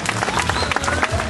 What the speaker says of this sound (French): Allez-y, vous pouvez applaudir.